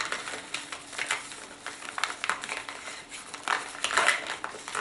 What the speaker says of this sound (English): without looking, I'm going to mix all these entries up